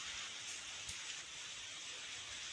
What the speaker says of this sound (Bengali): একটু কমেছে বৃষ্টিটা, দেখো তাও বৃষ্টি পড়ছে